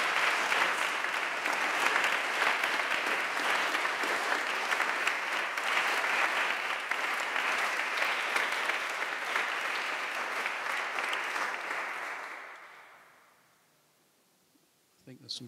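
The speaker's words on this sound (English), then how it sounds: "another round of applause for some brilliant..." A full round of applause from an audience for musicians, dense and steady for about twelve seconds before tapering off into near silence, with a faint sound returning at the very end.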